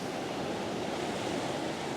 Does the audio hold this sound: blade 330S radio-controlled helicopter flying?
no